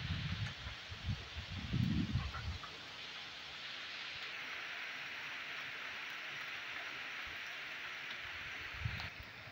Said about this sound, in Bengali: বাইরে খুব জোরে বৃষ্টি হচ্ছে